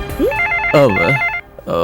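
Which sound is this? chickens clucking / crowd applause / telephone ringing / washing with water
telephone ringing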